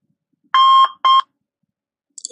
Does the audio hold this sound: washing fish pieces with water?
no